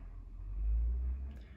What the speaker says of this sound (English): There's a truck outside.